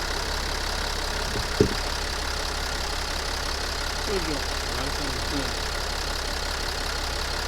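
A 2008 Kia Mohave 3.0 engine idles steadily with unbalanced injectors and a slight rough running, a continuous even drone throughout with a brief knock early on and faint voices in the background.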